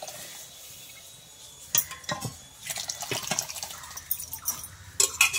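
Half-boiled split peas are tipped into water in a wok, giving splashy pours and clinks of a utensil on metal in short bursts against a quiet kitchen background.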